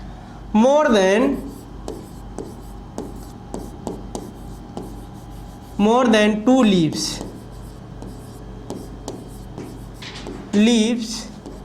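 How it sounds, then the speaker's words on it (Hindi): Chalk or marker scratches a board during a botany lecture as a definition is written out, with soft rubbing strokes and taps running throughout, broken by three louder bursts of someone speaking. "इसकी डिफिनेशन लिखते हैं पहले"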